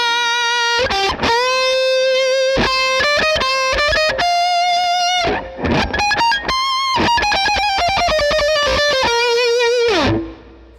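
An electric guitar runs through a Line 6 Helix set for a boosted treble tone, loud sustained distorted notes and quick runs with a bright, almost abrasive edge, played alone.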